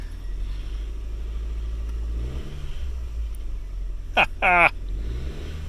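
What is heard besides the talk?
2007 Honda Fit engine starting and running with new starter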